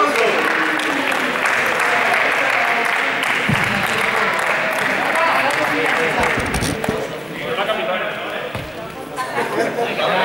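Group applause from the audience at a school award ceremony, dense and steady for about ten seconds with crowd noise and voices mixed in, easing slightly near the end.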